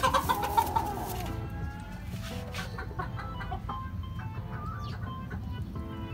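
A brooding hen on a rooftop poultry pen clucks in a few quick soft bursts near the start, then the sound settles into quiet background hum with faint scattered noises.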